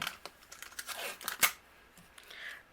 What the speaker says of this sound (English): And so I'm going to tape this down over my stencil,